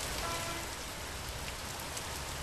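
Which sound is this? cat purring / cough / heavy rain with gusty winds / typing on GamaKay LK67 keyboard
heavy rain with gusty winds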